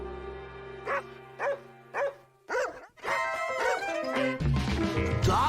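Dog barks, in a cartoon episode about dog safety: four short evenly spaced barks or yips stand clear over a steady hum, then a louder burst of mixed sound, music and effects, follows.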